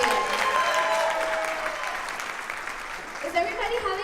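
Audience applause after a singer's performance at a live show, a steady wash of clapping that slowly thins out, with some voices and cheering mixed in.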